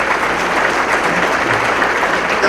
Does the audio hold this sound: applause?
yes